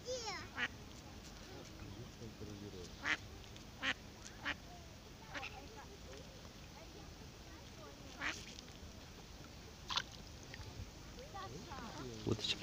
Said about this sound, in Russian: Уточки, смотри, Ивлиш.